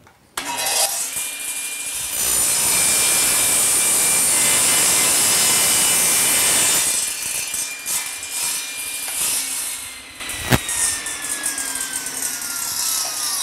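A table saw with a crosscut sled spins up, then cuts through wood with a loud steady whine for several seconds before winding down, followed by a sharp knock.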